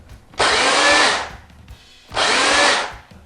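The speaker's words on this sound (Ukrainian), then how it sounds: "А тепер продемонструю пилку MSA 141S." A Stihl MSA 141 S electric chainsaw whirs up twice in two steady bursts of about a second each, separated by a short pause, close and clear.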